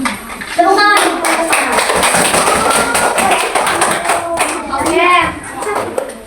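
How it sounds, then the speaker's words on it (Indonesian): A primary school class claps hands together in a classroom, bursts of loud near clapping mixed with children's voices and talk over the top. "Tepuk tangan."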